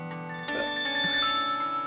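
A mobile phone rings with an incoming call, a bright electronic ringtone melody sounding clearly and alone for a couple of seconds.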